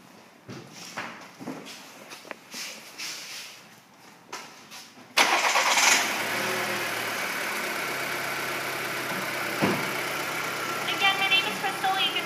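Quiet shuffling and a few knocks, then the 2.0-litre turbo engine of a 2006 Volkswagen Passat cranks and starts, settling into a steady idle hum that continues to the end.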